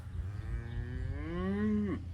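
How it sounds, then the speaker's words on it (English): A single cow lets out a long, drawn-out moo on a farm, rising and then falling off at the end, fairly close and clear over a low background rumble. "the cows think I'm going to feed them too"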